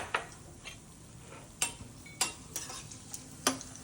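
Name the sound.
raisins frying in a pan for suji halwa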